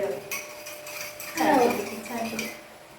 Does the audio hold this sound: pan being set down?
yes